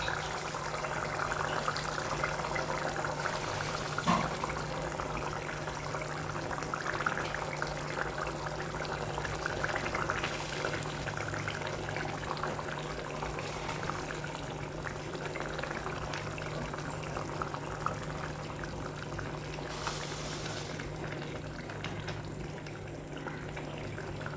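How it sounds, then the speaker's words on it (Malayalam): Pearl spot fish curry masala boiling in a pot before the fish goes in, a steady, dense bubbling that holds at an even level throughout, with no voices. "അരപ്പൊക്കെ തിളച്ച് വന്നിട്ടുണ്ട്. നമുക്ക് മീനിട്ട് കൊടുക്കാം."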